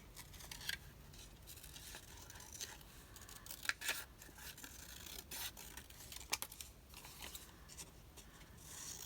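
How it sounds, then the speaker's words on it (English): Scissors fussy-cut around a paper printable for vintage-style rose tags, faint close snips and paper rustles in an irregular rhythm. "Except my fussy cutting is terrible. I don't have the right scissors."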